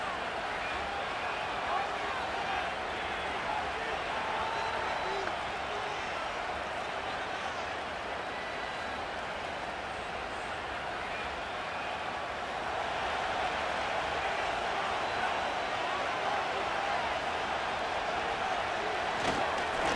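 A stadium crowd roars in Madden NFL 25 during a simulated Rams vs. Giants game, a dense, steady wash of noise lasting throughout at moderate loudness, with commentary voices talking over it.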